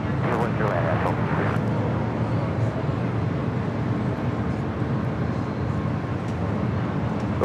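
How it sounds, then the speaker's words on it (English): An Allegiant passenger jet takes off at LAX: a loud, steady roar of broadband engine noise fills the whole stretch with little change, and faint voices come through beneath it. "Allegiant 2402, our nav to Del Rey, Flight going to be taking off to Omaha"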